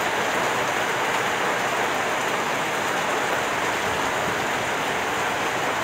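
Heavy, unbroken wind-driven rain roars during Typhoon Kristine amid flooding, a loud dense wash of water with no pauses and no voices.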